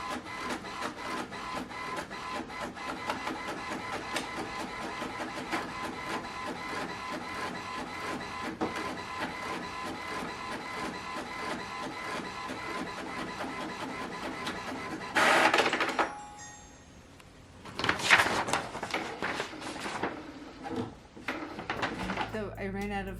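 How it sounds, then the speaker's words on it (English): An inkjet printer running off zine prototype pages, a steady mechanical chatter of the print head shuttling back and forth, then louder feed and eject clunks near the end, close by with occasional voices. "I ran out of black ink in the printer"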